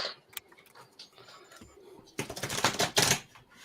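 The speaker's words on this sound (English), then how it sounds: "Nice to be thorough with the shuffling." Playing cards are shuffled close by in a couple of quick riffling bursts near the end, following scattered light clicks and ticks.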